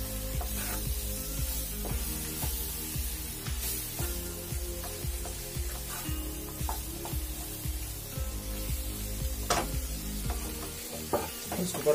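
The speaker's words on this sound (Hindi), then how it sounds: "मसाले डालने के बाद इसको अच्छे से मिक्स करेंगे" Chilli and spice mixture with fennel powder frying on low heat while being stirred, a continuous sizzle paired with steady rhythmic scraping strokes of the spoon, close and fairly loud throughout.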